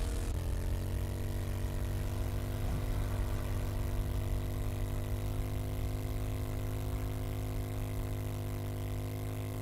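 Motorcycle engine in the video game 7 Days to Die, a steady droning hum held at an even pitch throughout, continuous and moderately loud with no talking.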